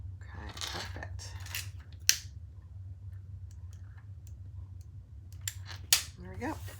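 Scissors snip excess fabric and zipper tape while a wallet is being sewn, giving a few sharp, distinct clicks under a low steady hum, with a voice talking in parts of the clip.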